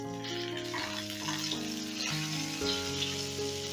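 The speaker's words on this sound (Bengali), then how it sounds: "তেলটা গরম হয়ে গেছে, এবার তেলে দিয়ে দিচ্ছি পটল।" Peeled pointed gourd halves, lightly salted, frying in hot oil, giving a steady close sizzle and crackle throughout with no talk.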